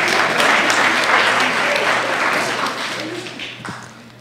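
An audience applauds a professor before an evening lecture, a full, close burst of clapping that gradually thins and fades over a few seconds.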